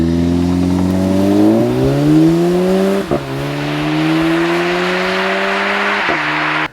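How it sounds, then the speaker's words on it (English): A 2015 Audi S3 with a 2-liter engine accelerating hard through the gears, its rising engine note broken by quick shift pauses, loud and close from inside the car. "this is a really powerful 2-liter engine"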